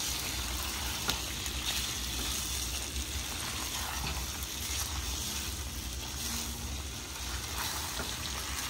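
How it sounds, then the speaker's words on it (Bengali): Potato and duck egg sauté together in a pan, producing a steady, moderately loud sizzle and crackle throughout with no voices. "এখন এখানে দেবে আলু আর ডিম সব একসাথে দিয়ে কষিয়ে নিচ্ছে।"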